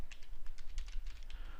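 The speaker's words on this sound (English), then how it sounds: "start typing environment" Rapid, steady keystrokes on a computer keyboard, a close run of crisp clicks with no talk over them.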